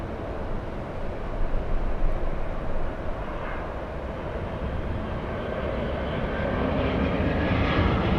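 Asiana airliner landing at LAX with gear down, a steady loud jet engine roar that swells slightly toward the end, continuous and close with no talk.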